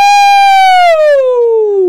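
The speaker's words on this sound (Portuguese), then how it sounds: "lá vem uma ambulância." A loud, close ambulance siren holds one steady wailing tone that slowly slides lower in pitch, as if the vehicle is passing and moving away, with no other sound around it.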